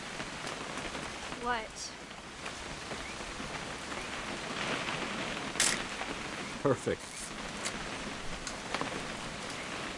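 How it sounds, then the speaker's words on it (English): Steady rain hisses throughout a scene in the video game What Remains of Edith Finch, with brief speech and a couple of sharp transient sounds over the constant wash. "It's gonna rain the whole weekend, isn't it?"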